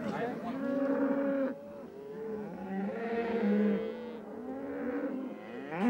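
Cattle grazing on open prairie grassland moo in long, drawn-out calls, several overlapping and fairly close, rising and falling continuously over about six seconds.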